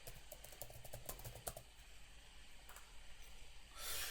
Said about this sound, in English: I'm just typing in the password